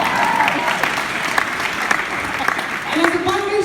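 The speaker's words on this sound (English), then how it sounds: "You should probably clap for that." A comedy club audience claps steadily throughout, a dense crackle of applause that rises slightly near the end, while the comedian keeps talking over it.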